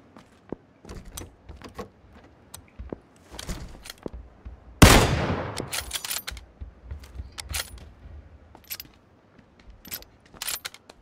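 A single loud gunshot rings out mid-way through a first-person battle-royale match, a sharp crack with a decaying tail, surrounded by faint scattered clicks and small in-game noises with no talk.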